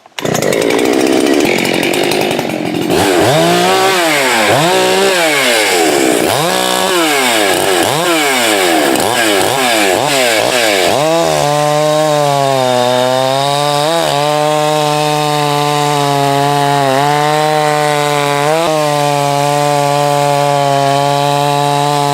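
A chainsaw, compared against a Husqvarna-style 390 and 385, revs repeatedly in loud rising and falling bursts, then settles into a sustained high-pitched wide-open scream with brief dips.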